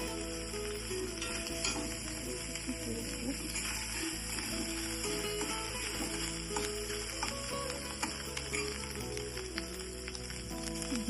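Ginger frying in oil for moong dal, a soft, steady hiss of sizzling with faint crackles running on without pause.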